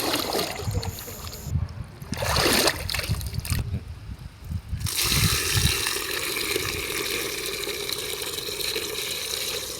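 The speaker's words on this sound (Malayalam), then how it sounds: "കുറച്ച് വെള്ളം നമ്മൾ ആ മണ്ണിലേക്ക് ഒഴിച്ചു കൊടുക്കാം" Water is poured onto freshly dug, sieved soil to make clay. After a few splashy, uneven sloshes, a steady, close pouring rush runs continuously to the end.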